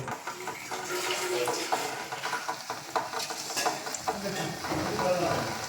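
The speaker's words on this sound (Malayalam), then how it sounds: "ഇതാ പൊട്ടറ്റോ അതിലോട്ട് തിളച്ച എണ്ണയിൽ അങ്ങോട്ട് ഇടുവാണേ" Potato bhaji slices dropped into boiling oil, frying with a steady bubbling sizzle and occasional stirring clinks, close and continuous without speech.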